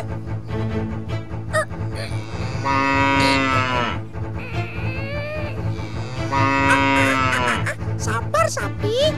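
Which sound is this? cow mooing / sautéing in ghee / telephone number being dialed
cow mooing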